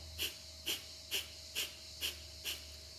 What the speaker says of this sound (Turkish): Derin bir nefes alıyorum burundan. Ağızdan bir boşaltıyorum nefesi. Ve pompalıyorum şu şekilde.